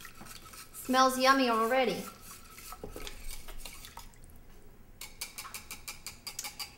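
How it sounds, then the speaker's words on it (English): Spoon scraping and clinking against a crock pot while a beef tips soup mixture is stirred to break up lumps, a close series of light taps and scrapes, with a brief spoken remark partway through. "you're going to mix that up really well, kind of get the lumps out of your soup"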